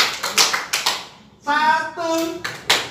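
Children at a mosque Quran class clap their hands in a rhythmic call-and-response clapping game. A few distinct claps are loud and close, broken up by a brief sung or chanted voice in the middle.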